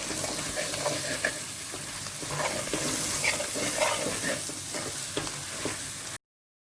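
Andhra-style country chicken curry masala being stirred in a pot, with a continuous loud sizzle and the scrape of a spoon through the thick mixture, steady for about six seconds before it stops abruptly.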